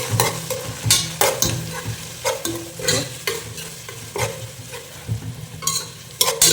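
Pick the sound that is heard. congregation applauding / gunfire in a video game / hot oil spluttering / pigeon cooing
hot oil spluttering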